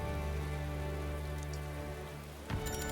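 Steady rain falling in Metaphor: ReFantazio, a constant dense hiss over a low background hum, with a brief brighter disturbance near the end; no voices.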